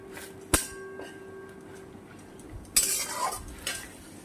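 Jute leaves being stirred in a pot of water with salt and a pinch of baking soda, heard as a few scattered utensil knocks and scraping clatters against the pot, fairly quiet and without talk.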